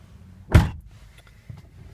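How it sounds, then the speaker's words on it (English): The door of a 2013 Subaru WRX is pulled shut from inside, a single close, dull thud followed by faint rustling and a small click. "let me close the door here."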